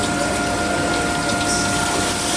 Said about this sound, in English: You can see the dump rinser start to cascade in its initial mode.